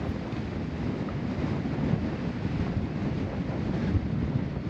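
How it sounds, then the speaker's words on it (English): Strong wind of about 25 mph blowing outside a van near the Badlands wall in South Dakota, a steady loud roar and microphone buffeting that never lets up, with no voices. "right now it says the wind's blowing 25 miles an hour"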